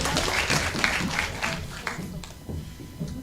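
Audience at a college school debate breaking into scattered applause, fairly loud at first and then thinning to a few isolated claps near the end, with faint murmuring mixed in.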